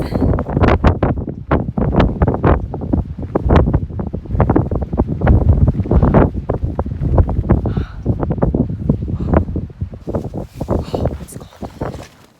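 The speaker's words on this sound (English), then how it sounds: "And it's so windy." Strong, cold wind on a hiking trail roars and buffets the microphone in heavy, rumbling gusts that pulse unevenly throughout, loud and close, with no clear talk.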